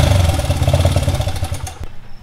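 A kick-started Honda motorcycle engine, a custom-built bike fitted with a one-off shifter, runs close and loud with a steady pulsing beat, then cuts off abruptly near the end.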